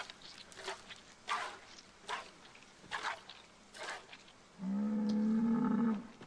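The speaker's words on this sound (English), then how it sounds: "That was a moo of relief." A cow gives one long, loud, steady moo close by, lasting over a second, after a stretch of scattered footsteps and light movement.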